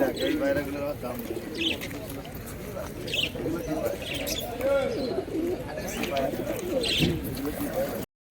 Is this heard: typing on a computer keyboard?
no